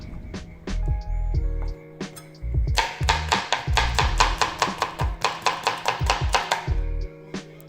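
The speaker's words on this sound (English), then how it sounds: "Then I'm just cutting the capsicum around the rind here." A knife cuts a capsicum on a board with a quick run of crisp, rhythmic taps and chops close by. Deep tonal hum and beeps sound underneath.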